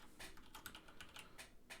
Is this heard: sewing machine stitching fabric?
no